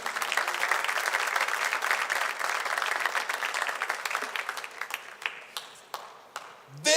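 A church congregation applauds during a worship service, a steady wash of many hands clapping that thins toward the end into scattered individual claps.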